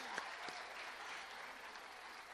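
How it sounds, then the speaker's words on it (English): Steady audience applause fills a college senior student-athlete awards ceremony as an honoree is called to the stage, a continuous soft wash of clapping heard from a distance without speech. "We can applaud."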